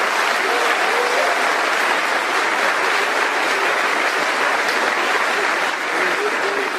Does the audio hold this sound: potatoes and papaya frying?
no